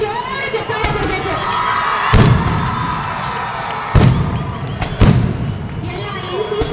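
A large outdoor crowd at a Dasara torchlight parade ground in Tumakuru claps and cheers for the parents of 256 children, a steady roar of applause with a few louder thumping bursts, heard fairly close.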